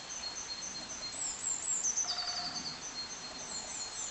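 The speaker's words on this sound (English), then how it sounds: "There's a great spotted woodpeckers." A great spotted woodpecker in woodland gives a few thin, high, sharp calls around the middle of the moment, distant and faint against a soft outdoor background hiss.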